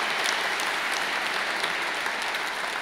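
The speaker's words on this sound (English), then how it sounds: "Give yourselves a round of applause." Graduation ceremony audience giving a round of applause, a dense, loud, continuous wash of many hands clapping that holds steady throughout.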